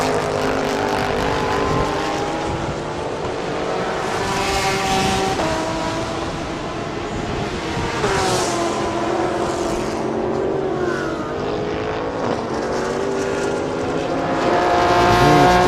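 Race car engines drone steadily on an out lap at a circuit, a continuous loud roar with shifting pitch as cars pass and accelerate, no voices heard.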